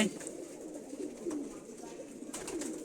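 A male racing pigeon coos in low, soft repeated calls at close range against a murmur of background noise, with other birds faintly around in a loft.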